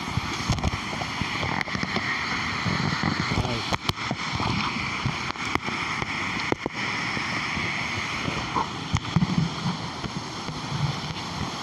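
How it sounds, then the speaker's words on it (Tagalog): Bassag Falls pours in a broad, steady roar of rushing water, loud and continuous throughout, with wind buffeting the microphone and some indistinct voices faintly under it. "Falls po ito guys"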